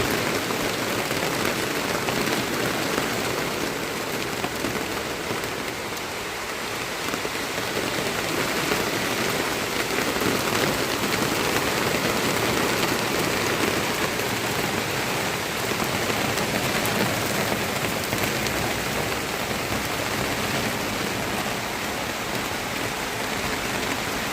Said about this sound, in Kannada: ಮಲೆನಾಡಿನಲ್ಲಿ ಮಳೆಗಾಲದಲ್ಲಿ ಒಂದೇ ಸಮನೆ ಮಳೆ ಹೇಗೆ ಬರುತ್ತೆ